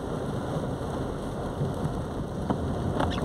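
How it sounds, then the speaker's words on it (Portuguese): Heavy rain falls steadily in Fortaleza, a dense continuous hiss with a few close drips and splashes toward the end, no voices present. "Muita chuva em Fortaleza"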